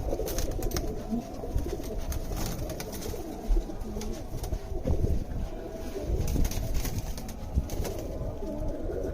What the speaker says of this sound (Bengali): এগুলো ভাইয়ার ব্ল্যাক টাইগার লাইনের কবুতরে